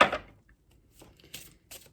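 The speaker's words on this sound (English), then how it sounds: "I can't shuffle very good with this thing on." Tarot cards being shuffled by hand: a loud papery riffle at the start, then several short, softer bursts of cards slapping and sliding, close by with no talking.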